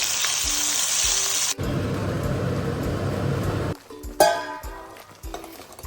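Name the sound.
ground masala paste added to hot tempering, frying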